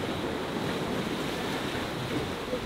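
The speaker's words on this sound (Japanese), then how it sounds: "今日は全くあまり風がないのにこんだけでかい波が来るのは面白いよ。" Large waves surge and crash on the rocky shore at Enoshima, Japan, a loud continuous roar of surf with a wash of wind-like noise and no talking.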